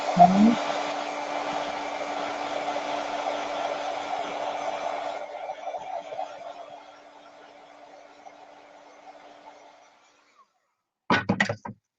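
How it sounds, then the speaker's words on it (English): A heat tool blows a steady, loud whoosh over freshly drybrushed paint on a ceramic mushroom for about five seconds, then fades to a faint hiss and falls silent, followed by a brief clatter near the end. "Let's just do a little heat tool."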